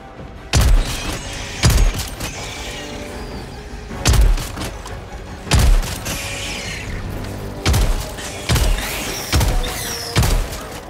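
Single heavy gunshots from the strongest weapon in the video game Helldivers 2 boom out one at a time in an irregular rhythm, about eight loud blasts with quieter mechanical handling in the gaps.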